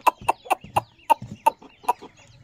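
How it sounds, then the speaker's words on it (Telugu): A short-nose long-tail rooster about ten to eleven months old, molting its tail and sitting in a basket, gives a series of about nine sharp, close clucks at a fairly steady rhythm, with no talk. "సైడ్ అంతా తోక ఊడిపోయింది, సజ్జలో ఉంది పుంజు"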